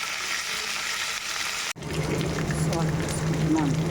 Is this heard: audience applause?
no